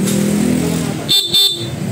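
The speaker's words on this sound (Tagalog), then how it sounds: "Stock horn naman tayo, stock horn." A stock Honda ADV160 motorcycle horn sounds in two short, loud honks near the end, following engine rumble.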